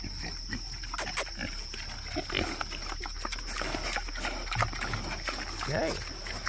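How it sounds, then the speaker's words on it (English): Pigs grunt and snuffle close by amid a noisy, rustling background, with a person talking intermittently over them. "What are you doing, little pig?"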